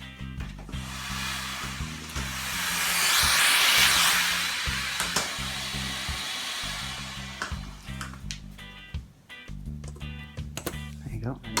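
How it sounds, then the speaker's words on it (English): A vacuum cleaner sucks up drilling dust while building a pegboard craft organizer, a broad steady whoosh rising and swelling for a few seconds near the middle, with low background music and handling noises around it. "Now let's vacuum it because we don't want to get dust in the mechanism."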